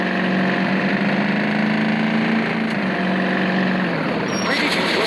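A taxi's engine from the driving game Taxi Sim 2020 gives a constant loud, steady hum with no breaks, while a voice speaks over it.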